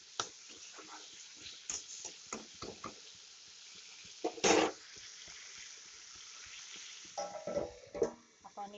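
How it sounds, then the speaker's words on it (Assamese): Capsicum, carrots, beans and potatoes fry together in a pan, a fairly soft sizzle punctuated by repeated stirring clinks and scrapes, with a louder scraping burst near the end. "এইখিনি এতিয়া একেলগে ভাজিব দিছোঁ। কেপচিকাম, গাজৰ,"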